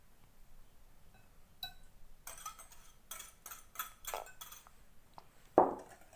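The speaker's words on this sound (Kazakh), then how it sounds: "Араластырамыз." Pancake batter made with kefir being stirred in a bowl, producing a quiet series of clinks and scrapes from utensil on dish, starting sparse and growing more rhythmic, followed by one sharper clatter.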